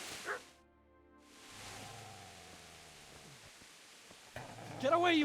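A dog barks and yips in a video game, a couple of short barks near the start, then excited yelps near the end over a steady game background hum.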